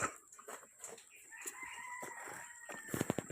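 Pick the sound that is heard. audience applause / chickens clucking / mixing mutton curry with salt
chickens clucking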